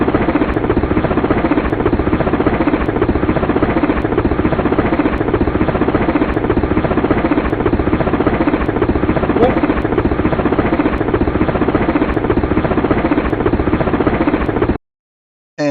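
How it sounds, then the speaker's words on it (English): Steady, loud helicopter rotor and engine drone from a simulated helicopter taking off in a game, a continuous thrumming roar with rhythmic blade chop that runs unbroken before cutting out abruptly near the end. "just to be able to get in that helicopter,"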